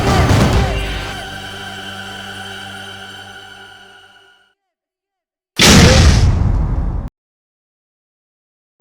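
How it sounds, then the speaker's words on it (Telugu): A gas cylinder explodes with a huge, loud boom that rings out and fades over about four seconds. After a short silence a second loud blast bursts out and cuts off abruptly. "Sir, cylinder పేలిపోతుంది."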